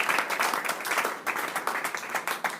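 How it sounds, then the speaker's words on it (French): A church congregation claps together in steady, lively applause, a dense crowd sound close and even throughout the short stretch. "Est-ce qu'on peut acclamer la parole pendant que nous nous mettons?"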